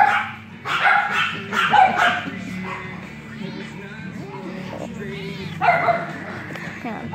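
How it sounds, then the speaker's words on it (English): Several dogs bark and yip close by, overlapping in scattered bursts, while people talk over them. "And look how many dogs there are, guys."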